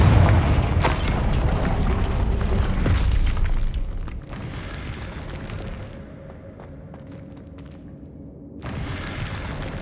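Confringo blasting spell in Hogwarts Legacy erupts in a loud explosion, followed by sustained rumbling debris and crackle that fades to a quieter tail before another burst of noise returns near the end.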